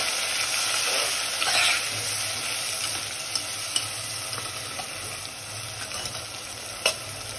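Potatoes fry with a tomato, chili and cumin masala paste, giving a steady close sizzle with occasional stirring scrapes and a few sharp ticks, no talking.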